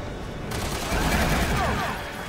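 Rapid bursts of gunfire from the video game Resident Evil 6, a dense continuous clatter of shots that swells in the middle and stays steady and loud.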